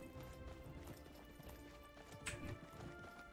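Horses' hooves clip-clop steadily in the Conqueror's Blade video game, a faint and continuous patter with a brief sharper knock partway through.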